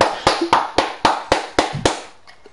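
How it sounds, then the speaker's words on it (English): Hands clap about eight times at a steady, moderately quick rhythm, loud and close, then stop. "There was me clapping."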